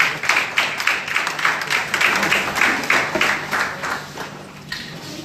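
An audience at an evening event applauds steadily with dense, continuous clapping that stays loud throughout, then begins to thin slightly toward the end.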